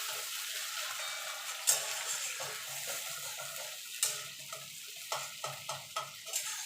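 Ginger, tomato, green chili and dried chili masala is stirred as it fries in a pan for a potol recipe, with a steady soft sizzle broken by scraping spoon strokes, a few sharper clinks and no talk.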